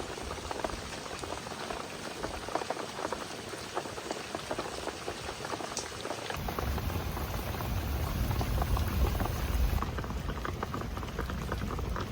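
A pot of liquid for a hilsa fish curry with taro flower bubbles on the stove, a continuous dense rolling boil, close and steady, growing fuller and louder partway through, with no voices.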